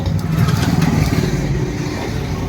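A TVS Ntorq BS6 scooter engine starts and runs, a steady close mid-pitched engine hum with slight revving throughout, no speech over it.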